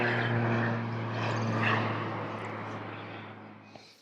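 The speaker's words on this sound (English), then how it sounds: "now I have a crop duster coming over as well, so we're going to be hearing airplanes low around us." A crop duster airplane flies low overhead, its propeller engine a loud, steady drone that swells and then slowly fades as it passes.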